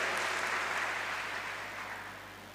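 A church congregation applauding, a dense and even wash of clapping that slowly fades over a couple of seconds, heard from some distance with no voices over it.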